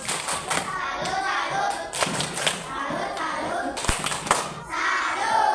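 A classroom of children claps a rhythmic salute pattern, bursts of sharp hand claps and thumps in repeated groups, close and loud, with kids' voices mixed in around the beats.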